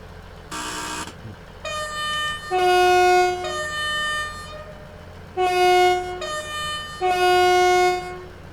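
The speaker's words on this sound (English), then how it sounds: "Let's listen to the train pull off." A Scotrail Class 158 diesel unit in the Train Sim World game sets off with a low steady rumble under a series of loud, sustained two-tone horn or warning notes that repeat in bursts.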